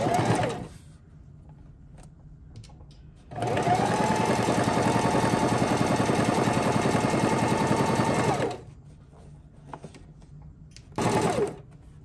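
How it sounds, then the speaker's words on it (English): A sewing machine stitches a straight seam along the edge of blue fabric for a Sylveon cosplay skirt, a steady rapid whirring run of about five seconds, with shorter bursts before and after. "We're still using the straight stitch, and we're using this foot that we're gonna guide the edge of that blue up to now, and now we're just gonna stitch"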